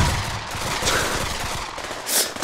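Rapid gunfire from a gun in the Pavlov VR shooter game, a dense crackling burst of shots running steadily through the moment at close range with no talk over it.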